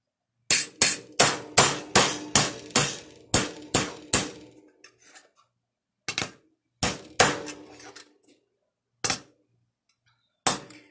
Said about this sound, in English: And I'm going to pound, so it's going to be loud.